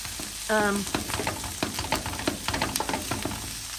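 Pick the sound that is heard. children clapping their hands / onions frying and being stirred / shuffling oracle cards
onions frying and being stirred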